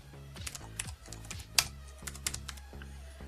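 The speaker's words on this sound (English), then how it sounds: "Alright, so do a bit of a typing test." Someone runs a typing test on a Space Grey Matias RGB wired Mac keyboard, making quick, irregular, close-miked key clacks and taps in uneven bursts, with no talk.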